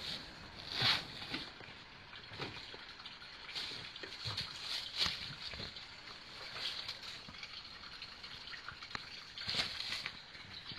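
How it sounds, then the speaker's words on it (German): Water splashes and sloshes in intermittent bursts near a cave overnight camp, with quiet trickling between the louder splashes. "Wasser plätschert."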